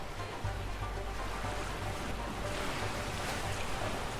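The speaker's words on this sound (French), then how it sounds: "C'est une cascade, c'est normal." Loud, steady rushing water from a waterfall and fast river fills the scene in the video game A Way Out. It is a constant broadband roar with no talking over it.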